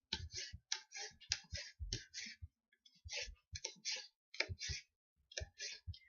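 Collard greens being cut up with a knife, a close series of crisp clicking chops in short irregular bursts with brief pauses between them, no talking.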